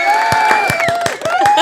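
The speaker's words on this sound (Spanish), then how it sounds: "vamos a recibirla con un fuerte aplauso" Studio audience on a talk show cheering and whooping, with loud voices over a rhythmic burst of clapping; the crowd is close and fills the whole moment.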